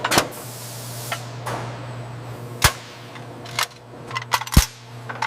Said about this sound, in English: Ready, fire.